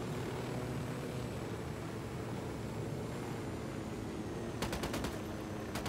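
Gunfire in Ghost Recon Wildlands, a tactical shooter game, arrives late as a quick burst of sharp shots cutting through a steady background rumble like aircraft or wind.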